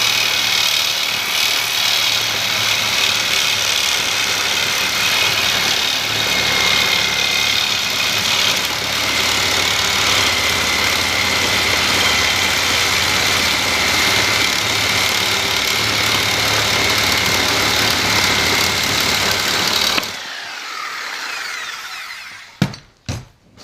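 A Milwaukee reciprocating saw fitted with an AX demolition blade grinds through a cinder block, a loud, steady, close buzzing rasp that runs for about twenty seconds before stopping, followed by a few clanks and a clamp moving.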